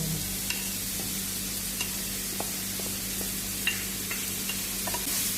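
Chicken sizzles steadily in olive oil in a covered pan: a constant close frying hiss broken by small irregular ticks and pops, over a low steady hum, with no talking.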